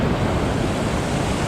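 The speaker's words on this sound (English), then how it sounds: "Nice waterfall there." A waterfall on a river near an old mine gives a loud, continuous rushing roar, close by and unbroken, with some wind buffeting the microphone.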